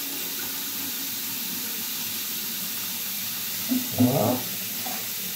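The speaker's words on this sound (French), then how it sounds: "Je lui remets dedans de l'eau chaude. Enfin, de l'eau plutôt tiède." Lukewarm water pours steadily into a small salad bowl while dough is being shaped for bread. The even rushing stream is close and continuous, with a brief spoken word near the end.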